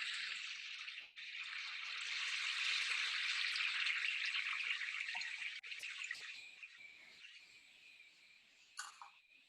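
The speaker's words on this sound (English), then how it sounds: "I'm gonna play the sound of the spring before you taste the water." Water from a spring flows in a steady, bright hiss and trickle that fades gradually, with small drips and splashes toward the end, recorded closely and with no voices.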